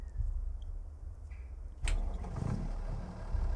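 A tractor engine in Farming Simulator 25 rumbles at a low steady idle; after a sharp click it swells into a louder, rougher running drone that carries on to the end. No one speaks.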